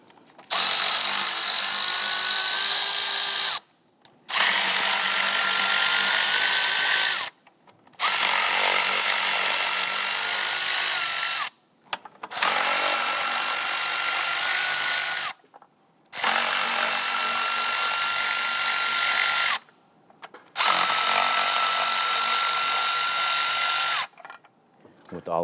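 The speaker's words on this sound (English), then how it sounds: "Using a 5/16 socket, go ahead and loosen the upper intake bolts." Power tool spinning loose the upper intake bolts with a 5/16 socket on a 2011-2021 Jeep Grand Cherokee 3.6L V6, in six steady high-pitched bursts of about three seconds each, separated by brief pauses.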